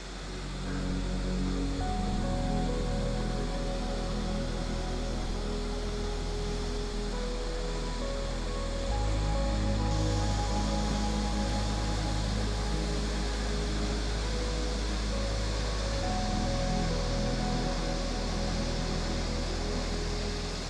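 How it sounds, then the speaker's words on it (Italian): A waterfall on a jungle trek in Costa Rica gives off a steady, continuous roar of rushing water, full and unbroken throughout, with no voices over it. "Si sente il rumore dell'acqua, mi sa che siamo proprio arrivati a questa prima cascata"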